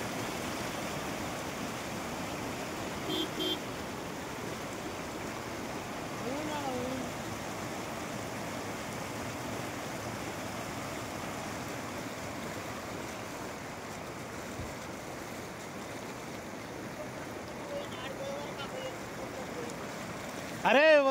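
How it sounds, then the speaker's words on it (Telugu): A swollen stream between villages in Lingala mandal, Nagarkurnool district, rushes forcefully in flood, making a continuous, even roar of churning water that holds steady throughout. "గ్రామాల మధ్య వాగు ఉధృతంగా ప్రవహిస్తుంది"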